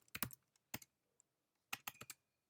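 Keys clatter on a computer keyboard as a Docker command is typed, two short bursts of quick close taps separated by a brief pause, quiet and with no talk.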